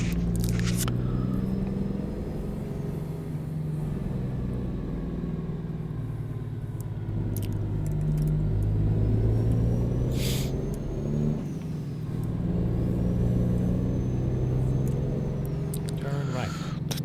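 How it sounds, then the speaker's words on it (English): A Freightliner Cascadia truck with a 600 horsepower engine drives a secondary mountain road in Idaho in American Truck Simulator, its steady low engine drone continuous and loud throughout, with faint higher whines and clicks above. "Freightliner Cascadia, and we have a 600 horsepower engine"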